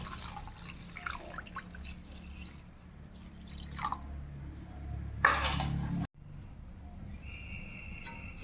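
Shark pieces being washed in hot water make intermittent splashes and drips, with a couple of louder sloshing bursts and a brief sharp cutoff.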